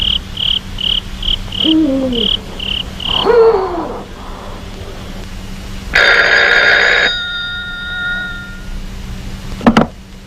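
A telephone at a frontline army battalion post rings in a run of short, evenly spaced bursts, then gives one longer, louder ring, close and with no voices.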